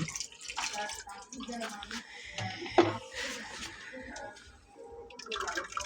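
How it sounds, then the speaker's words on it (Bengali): Raisins for payesh are washed in water with splashing, swishing and dripping close by, under quiet conversation from several people. "কিশমিশ, এটা কিশমিশটা ধুয়ে নিচ্ছে আমাদের সবুজ ভাই।"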